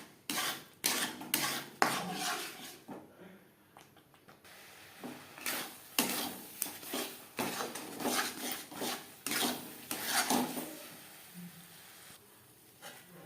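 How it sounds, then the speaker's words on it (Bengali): Sandesh mixture with ghee and cardamom powder being stirred in a kadai, a spatula scraping and clinking against the pan in repeated uneven strokes, fairly close, with no talking. "বেশ ভালো করে ঘি ও এলাচের গুঁড়ো মিক্স করে দেব।"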